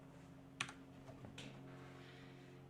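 Keystrokes on a computer keyboard, a few quiet, separate taps with a sharp click near the start and softer presses after, over a steady low hum.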